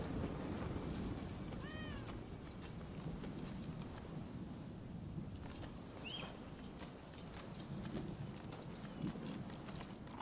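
A cat meowing in the video game Rise of the Ronin: a few short rising meows stand out over a busy outdoor ambience of hoof-like clopping and footsteps, with faint movement noise throughout.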